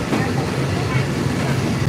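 Thai passenger train on the line to Hua Hin, Thailand, with a steady low rumble of the carriage running along the track throughout, loud and continuous, with a voice faintly present beneath the noise.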